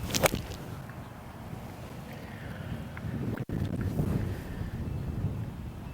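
Wind rushes steadily across an open golf course and buffets the microphone with low rumbling gusts, with a sharp click near the start and a brief dropout midway.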